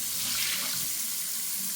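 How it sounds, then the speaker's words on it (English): Raw pork chops rinsed under a running kitchen tap, a steady, close splashing stream of water filling the sink with no pauses and no voices. "we're gonna rinse it off like 2 to 3 times, guys, just to make sure it's nice and clean"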